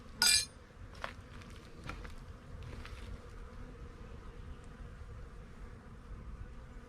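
Honey bees at a winter hive hum in a low, steady drone close by, after a sharp clink at the start and a few faint taps.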